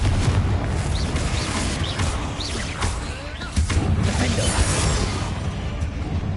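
Blasting Confringo spell cast in a Harry Potter video game inside a tomb: dense, noisy whooshes and muffled booms blend with a continuous roar of combat effects, with faint chirping sounds scattered through.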